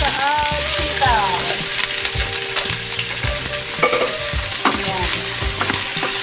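Squash and string beans frying in cooking oil, a loud continuous sizzle close up with stirring scrapes and clatter throughout, and a brief word spoken over it.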